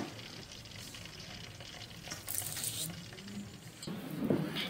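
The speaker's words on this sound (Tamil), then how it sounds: "ஒரு டென் மினிட்ஸ் ஆச்சு இந்த காடை வந்து ஃப்ரை ஆகிறதுக்கு" Quail pieces sizzling in hot oil in a pan, a soft continuous crackle with a few louder spatters and stirring scrapes close by, no talking.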